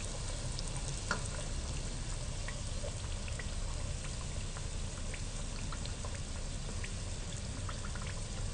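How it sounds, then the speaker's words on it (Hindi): Samosas deep frying in oil over a gentle flame give a steady, dense sizzle with scattered small pops and crackles, continuous and close throughout, with no talking. "ठहर के आराम सुकून और तसल्ली से फ्राई करें ताकि वो अच्छे क्रिस्पी फ्राई हों।"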